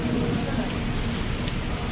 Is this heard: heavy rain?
yes